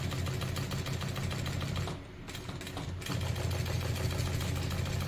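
Sunstar KM-D1640BL-7K industrial sewing machine stitching steadily along a line, a close, fast continuous motor whir with a brief lull near two seconds before it runs on again.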